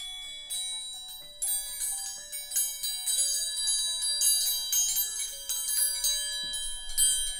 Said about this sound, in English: The triangles. Now let's give those a little ring ding ding so people can hear them.